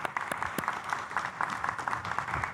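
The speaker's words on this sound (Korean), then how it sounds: "박수 한번 하겠습니다." Applause from a church congregation at a Korean Sunday evening worship service, a dense patter of many hands that stays fairly soft and steady throughout with a faint voice underneath.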